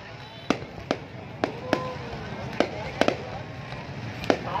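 Fireworks burst during a festival opening ceremony in Vietnam, sharp cracking booms firing at irregular intervals, some in quick doubles, over a rumbling crowd background with people talking nearby.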